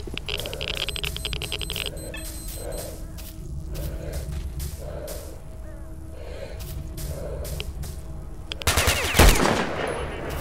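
Rifle fire in the shooter game STALKER: Shadow of Chernobyl comes as rapid bursts of sharp shots, some spaced single rounds, then a louder blast near the end over a background of game ambience, without speech.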